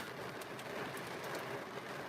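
Steady rain falls in Nemuro on a seaside drive in Hokkaido, a dense, even hiss of drops patters on a surface, close and constant without pause, with no voices.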